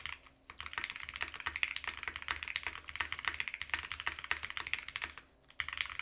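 Rapid mechanical keystrokes on a Ducky One x Mini gaming keyboard, dense irregular clacks close up with a few brief pauses, no voices.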